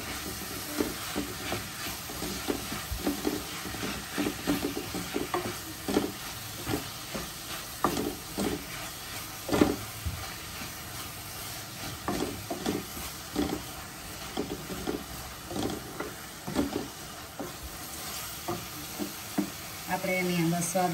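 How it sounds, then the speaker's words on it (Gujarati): Chopped green onions, two to three stalks, fry in spiced oil for an onion-garlic curry, giving a close, steady sizzle broken by scraping, knocking strokes of a spoon stirring the pan. "હવે આપણે આમાં ડુંગળી એડ કરી દઈશું, જે આપણે લીલી 2 થી 3 ડુંગળી કાપીને રાખી હતી"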